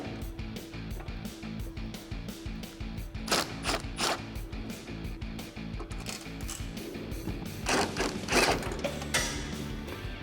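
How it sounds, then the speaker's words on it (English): Ratchet or impact-style clicking from a T25 Torx socket backing out taillight bolts on a 2009-2018 RAM 1500 with the tailgate down, rapid mechanical rattles throughout with two louder bursts, close and alone. "grab a T25 Torx socket and remove the 2 bolts on the inside"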